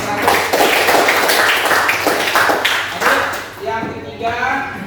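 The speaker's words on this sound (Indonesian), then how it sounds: "Tepuk tangan untuk Ishak." A classroom of students claps together in a brief burst of applause for a classmate, close and fairly loud, with voices mixed in.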